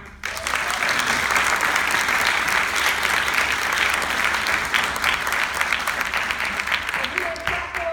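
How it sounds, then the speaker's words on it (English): A crowd applauds the mothers in the room during a Toastmasters world champion's speech in Dubai, with dense, sustained clapping that starts abruptly and carries on loudly for about seven seconds before tapering slightly. "Let's clap for the moms one time."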